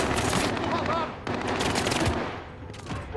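Rapid bursts of automatic machine gun fire rattle loudly and continuously, with a short break midway, dense and close in a Call of Duty: Modern Warfare firefight.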